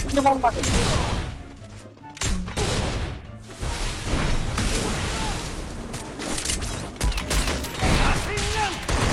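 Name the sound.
sniper rifle gunfire in a PC shooter video game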